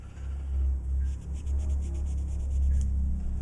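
Steel wool or emery cloth rubbed over a furnace part in a rental house, giving a steady, close scraping and rasping with a low hum underneath, a few brief pauses between strokes and no talking.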